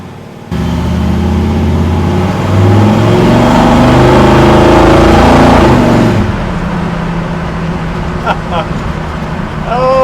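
A classic 1955 car's engine revs up hard and pulls under acceleration while being driven, a loud, sustained rising engine note that settles into steady road noise near the end.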